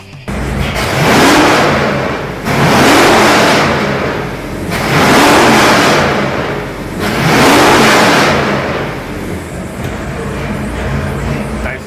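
A Nelson Racing Engines hot rod series engine with eight individual throttle bodies and coil-per-cylinder ignition roars through four loud, evenly spaced revs over a lumpy idle, close up and with no talking.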